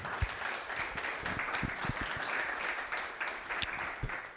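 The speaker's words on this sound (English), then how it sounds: "let's just have a round of applause and thank you for those folks" A meetup audience applauds in a hall, dense steady clapping from many hands for the full span, with a few sharper claps standing out close by.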